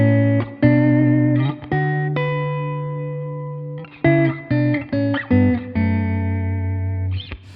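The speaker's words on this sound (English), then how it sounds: "It has a reverb already built into it, but it's a very clean sound." Electric guitar played through a POD Go multi-effects unit on a clean preset with built-in reverb, loud chords and single notes ringing out and decaying, several sustained then a run of shorter plucked hits, no voice.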